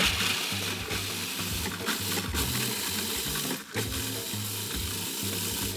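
Fifteen graham crackers are ground into crumbs with a rhythmic, rattling mechanical churn that pulses steadily and fairly quietly, with a few brief pauses.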